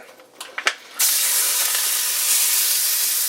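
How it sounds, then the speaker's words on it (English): A steak hits a very hot pan and a loud, steady sizzle starts right away and keeps on without a break, after a few small clicks and knocks just before it. "let's get the steak in there. Might be a little too hot"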